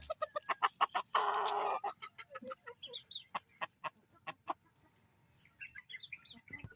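A fighting rooster clucks in short repeated bursts, close by, with a brief louder squawk early on and other birds chirping faintly in the background.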